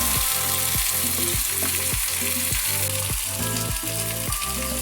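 Cauliflower florets stir-fried in an open pan, with a steady loud sizzle and a regular rhythm of utensil strokes scraping through the pieces about every half second, continuous throughout with no voices.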